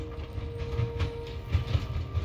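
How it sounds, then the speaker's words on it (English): Steady rumble and rhythmic clatter of a train rolling along tracks in the game Voidtrain, close and continuous, with a faint sustained tone riding over the low rumble and no voices. "I love the sound of the train."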